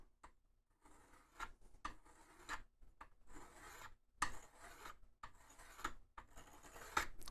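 Hand filing of a small metal mounting part for an EKWB reservoir on a water-cooled PC: repeated rasping strokes in bursts, close and fairly quiet, with short pauses between passes and no talking.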